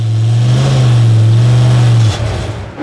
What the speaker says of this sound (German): der Sound wird in der Mitte unterm Auto schon vermischt und kommt hinten dann als V8-Sound hinten raus